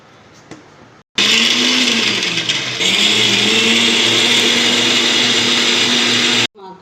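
A kitchen blender starts with a sudden loud whirring roar and grinds ginger, garlic, rice and cashews into masala for a Tamil home lunch, holding a steady high-pitched motor whine, briefly dipping once, before stopping abruptly.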